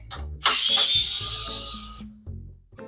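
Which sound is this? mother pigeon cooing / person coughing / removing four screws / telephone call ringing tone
removing four screws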